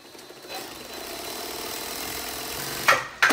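A Brother Exedra straight-stitch industrial sewing machine, under repair, runs briefly with a steady faint motor hum and rapid stitching, ending in a couple of sharp mechanical clunks.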